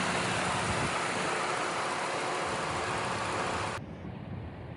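A Cadillac CTS with 72,000 miles idles steadily with a smooth, even hum that holds for several seconds before dropping abruptly to a quieter, duller tone near the end.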